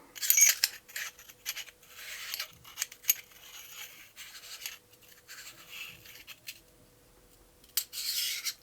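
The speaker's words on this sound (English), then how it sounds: "this modifier disk, which simply screws in the" A modifier disk is screwed into the objective of a March High Master Tactical 10-60x56 riflescope, giving a series of faint, close, light metallic scratching and clicking sounds in short bursts with quiet gaps.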